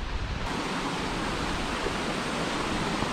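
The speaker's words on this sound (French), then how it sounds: "il y a une méchante cascade." Steady broadband rush of a strong mountain waterfall in the Mercantour, a dense continuous roar with no talk over it.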